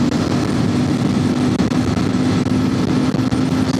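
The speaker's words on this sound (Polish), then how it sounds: "A jak dodam mu gazu," A Royal Enfield Classic 650 motorcycle is ridden under open throttle, its engine giving a loud, continuous drone with a steady hum and heavy wind rumble, with no clear rise or fall.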